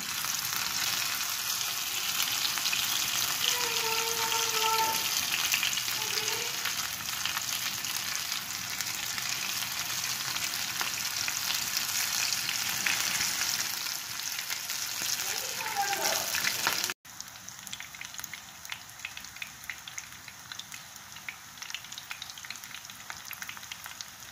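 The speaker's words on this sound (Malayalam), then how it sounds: "ഇത് ഓരോന്നായിട്ട് നമുക്ക് വറുത്ത് എടുക്കാം" Steady crackling sizzle of prawn kunafa rolls deep frying in hot oil, continuous and close, with a few brief clinks; the bubbling quiets near the end.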